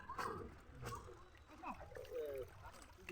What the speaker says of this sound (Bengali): কাকু এবার ধুয়ে নিচ্ছে।